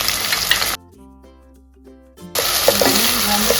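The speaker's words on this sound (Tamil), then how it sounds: "இப்போ அனியன்ஸ் வந்து நல்லா ஃப்ரை ஆகிடுச்சு" Onions frying in a pan sizzle loudly and steadily, broken midway by a quieter stretch with a faint tonal hum before the sizzle returns at full strength.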